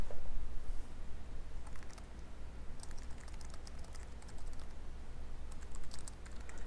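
Keyboard typing during an online classical chess game, with irregular bursts of quiet key clicks over a steady low hum, clustered near the start, middle and end.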